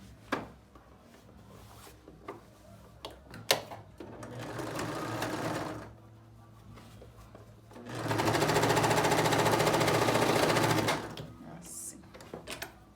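A sewing machine stitches the right sides of a child's jacket together in two bursts, a shorter run followed by a louder, steadier one, with light handling noises between and brief talk nearby.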